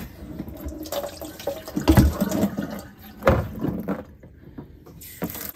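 Water hand-filled into a sink for a wool dye bath, a steady close splashing and gushing flow with a few louder surges, running continuously without talk.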